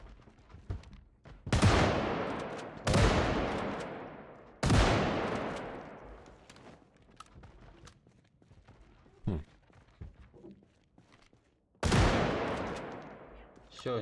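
Gunfire outside a building in a video game: several loud close bursts of automatic fire with sharp attacks and long decaying echoes, separated by quieter stretches with scattered distant shots and some talk.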